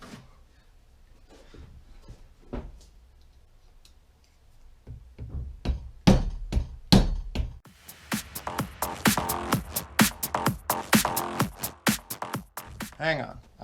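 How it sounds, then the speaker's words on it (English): Hammer tapping at detents on a Subaru 6MT transmission differential: sparse light taps at first, then a steady run of sharp metallic strikes growing louder and quicker, close up, with someone speaking at times. "We're tapping in quite the downward motion"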